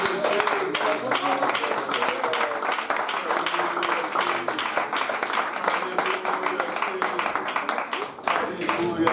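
A congregation at a home prayer gathering applauds and acclaims the Lord, a dense, steady wash of clapping and voices that stays loud and unbroken throughout.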